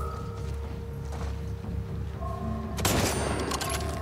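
Video game gunfire bursts in during the final second, a loud sharp crack over a backdrop of hum and mechanical game sounds, with a few trailing reports.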